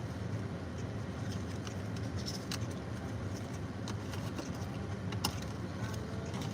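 Steady rain falling at night, a dense continuous hiss with scattered patter and occasional sharper drips, even and unbroken throughout, no voices.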